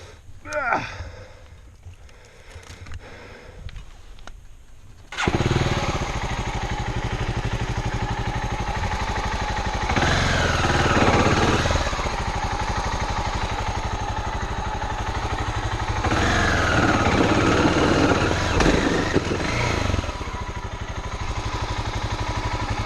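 A motorcycle is stuck in soft desert ground. After a few quieter seconds its engine kicks in loud and close, then holds a steady, rough roar with swelling revs to the end.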